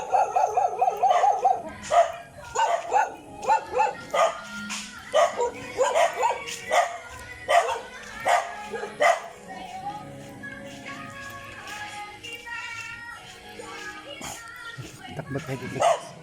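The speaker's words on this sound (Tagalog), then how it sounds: "Galit sa atin yung aso." An angry dog barks in repeated sharp, loud bursts close by, with some yips and howl-like cries, while people talk and breathe hard on a run along a street.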